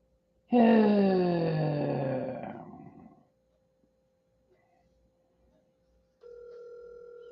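A landline rings while someone calls Danny at home: a loud falling wail-like tone fades out, and after a silent gap a steady electronic ringback tone starts and holds.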